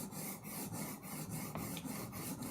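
A knife bevel is rubbed back and forth on a sharpening stone in a steady, repeated rasping rhythm of strokes, close and quiet, with no talking.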